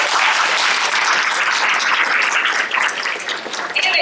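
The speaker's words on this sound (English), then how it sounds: "So let's give them an applause." Audience applause at an indoor panel event fills the whole stretch, a steady dense wash of clapping that stays loud from start to finish.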